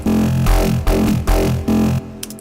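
A wavetable synth patch built from several stacked wavetables pulses loudly in four rhythmic, throbbing swells with a harmonically rich tone, then cuts off, leaving faint ticks.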